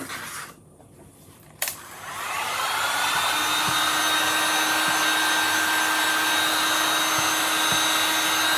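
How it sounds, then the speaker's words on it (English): A high heat tool starts up with a click and ramps into a loud, steady whooshing blow of hot air over a Mod Podge craft piece, continuing unbroken close to the listener. "Go ahead and grab your high heat tool."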